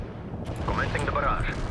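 An artillery barrage fires in the World in Conflict video game, heard as a heavy rolling rumble of distant blasts that swells midway, with a radio-style voice speaking over it.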